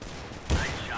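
A single sharp gunshot cracks out halfway through a short moment of CS:GO gameplay, loud and close over a low hum of game ambience.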